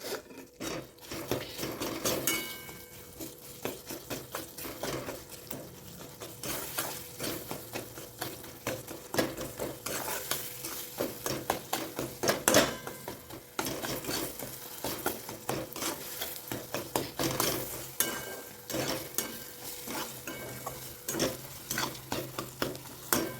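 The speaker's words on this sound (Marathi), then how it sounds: "केळी ना आपल्याला चांगली ह्याच्यामध्ये अशी स्मॅश करून द्यायची" Ripe bananas are mashed together with roasted semolina in a pan, giving a steady scraping and stirring of a utensil against the metal with light sizzling and occasional clinks, continuous and close throughout.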